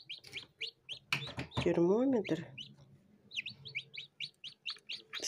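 Newly hatched chicks give rapid, high-pitched peeping chirps close by, in a quick repeated series, with someone talking briefly in between.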